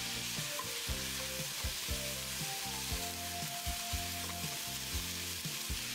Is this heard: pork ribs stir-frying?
yes